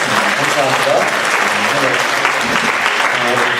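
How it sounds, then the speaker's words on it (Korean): A church congregation claps together at the close of a prayer service, a dense, loud and steady wash of applause that runs through the whole stretch. "박수로 모든 수고 마치겠습니다"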